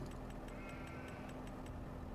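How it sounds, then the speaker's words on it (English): A computer mouse is clicked over and over while playing Farming Simulator 25, making quiet, evenly spaced rapid clicks against a faint background hum, with no speech. "Much clicking later. Apologies for the noise."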